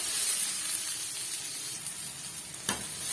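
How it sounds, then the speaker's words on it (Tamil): Chopped small onions sauté in a pan for a drumstick-leaf kuzhambu, giving a close, steady bright sizzle with a brief louder crackle near the end, no talking. "சின்ன வெங்காயம் சேர்க்கும் போது ரொம்பவே டேஸ்டியாக இருக்கும் சேர்த்துட்டு நல்லா வந்து வதக்கி விட்டுடலாம்"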